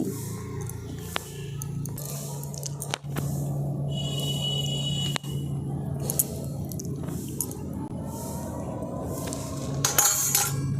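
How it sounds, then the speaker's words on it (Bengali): Flour, powdered milk and ghee being rubbed together by hand in a bowl, giving soft repeated squishing and scraping with occasional clinks of the bowl, close and moderately quiet, with no talking. "এবার ঘিটা দিয়ে আমি খুব ভালো করে সমস্ত কিছু একসঙ্গে মিশিয়ে নিচ্ছি"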